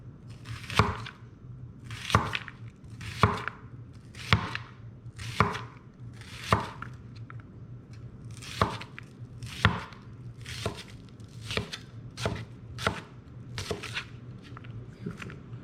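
A knife chops onions and peppers into uniform pieces for ribeye fajitas, a dozen crisp, evenly spaced strikes on a cutting board with no talk over them.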